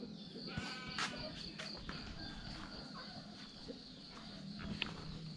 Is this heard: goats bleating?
yes